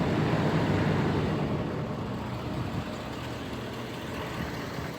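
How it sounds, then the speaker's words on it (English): A 2016 Ford F-550 based Thor Chateau Super-C motorhome with a Power Stroke diesel engine idles with a steady low rumble and broad hiss, constant and moderately loud, no voices heard. "The engine is running, so while the engine is running,"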